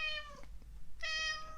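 A cat meows twice, a clear harmonic cry followed by a short pause and a second call, close and alone.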